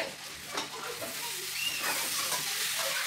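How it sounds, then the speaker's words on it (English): Onions sizzling and frying in a pan for a potato lentil stew, with steady hiss and a few stirring scrapes, close and moderately loud. "And now those onions are fried"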